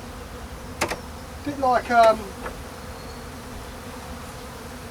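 Honey bees buzz briefly during a hive inspection in March, giving a few short rising whines near the middle of the clip over a quiet background hum, with a voice speaking briefly.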